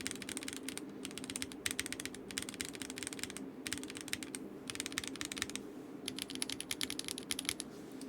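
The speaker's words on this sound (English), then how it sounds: "you can really hear that, like, clacky, loud sound that I normally associate with trash" Rapid bursts of clacky keystrokes on a mechanical keyboard fitted with GMK PBT keycaps, steady typing in repeated runs separated by brief pauses, close and fairly loud with no talk.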